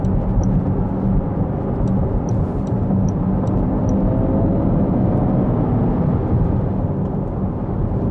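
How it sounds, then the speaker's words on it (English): A 2019 Jaguar I-PACE electric car accelerating on a highway with its artificial engine sound: a steady, loud cabin drone of road and wind noise, with a faint synthetic tone rising partway through. No one speaks. "You can hear the artificial engine sounds, hopefully."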